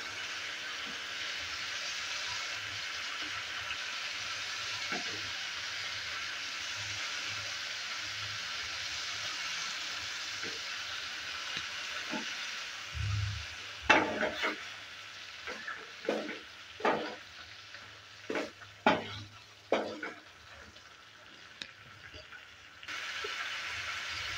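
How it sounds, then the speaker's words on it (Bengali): Fried bitter gourd tipped into spices frying in a pan for karela sabzi, a low continuous sizzle that turns into a run of sharp scraping and clattering stir strokes partway through. "এবার দিয়ে দিচ্ছি ভেজে রাখা করলা।"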